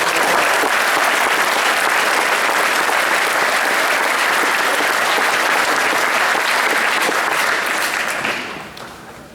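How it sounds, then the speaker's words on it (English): Sustained, dense applause from a full audience at a scholar club ceremony honoring sophomores, loud and even throughout before fading out near the end. "And another round of applause for all our sophomores."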